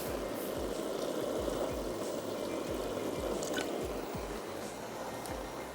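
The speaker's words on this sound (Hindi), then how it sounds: "पानी शामिल कर दिया, चावल ऐड कर दिए।" Water poured steadily into a cooking pot of rice for a mutton stew, giving a continuous close splashing stream with no voices.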